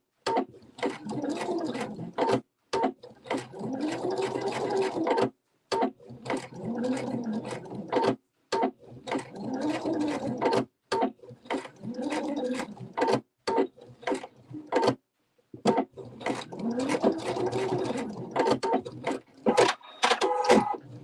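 A Husqvarna Viking sewing machine stitches a quilt-as-you-go mug rug in bursts of rapid mechanical whirring, broken by brief pauses and clicks as the fabric pivots, close and alone.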